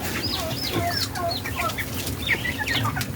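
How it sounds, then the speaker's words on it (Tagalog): Broiler chickens and their chicks cluck and peep close by, with a steady chorus of high, falling chirps over low clucking and no talk. "At ito na nga ang ating mga sisiw, guys."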